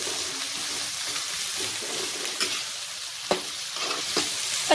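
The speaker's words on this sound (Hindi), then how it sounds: "पत्ता गोभी और आलू को अच्छे से तल लेंगे।" Cabbage and potatoes fry steadily in hot oil in a wok, a continuous sizzle broken by a few sharper scrapes and clacks as they are stirred, with no voices.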